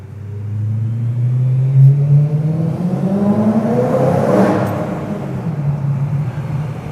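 A BMW E92 M3's engine revs up and down at close range, a deep sustained rumble that swells, peaks and eases off, with no voices over it.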